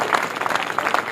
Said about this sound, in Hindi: एक बार थोड़ी सी तालियां बजाइए